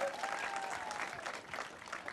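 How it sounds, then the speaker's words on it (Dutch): Audience applause at a village event in Holwert, Friesland: an even, steady wash of clapping from a crowd, sustained throughout at moderate distance with no talk over it. "dit verdient een applaus"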